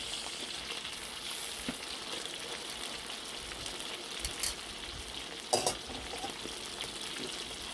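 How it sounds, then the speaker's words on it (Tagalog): Beef and broccoli stir-fry frying in a pan, a steady close hiss of sizzling oil with a few brief louder crackles and stirring scrapes, no talking. "just fry for about 1 to 2 minutes"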